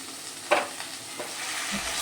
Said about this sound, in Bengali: খুব ভালো করে মশলাটা একই সঙ্গে টমেটোর সঙ্গে কষিয়ে নেব।